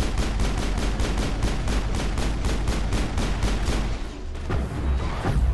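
Heavy rapid gunfire and rocket blasts from an enemy attack in the Mass Effect video game, a dense, loud, steady barrage of shots that runs almost throughout, with a brief lull before a final burst of explosions.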